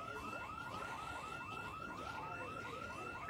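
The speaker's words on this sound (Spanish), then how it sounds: "La primera casa que reviso tiene alarma." A house alarm goes off in Project Zomboid, giving a faint, steady electronic warble that repeats in quick rising sweeps under a low background hiss.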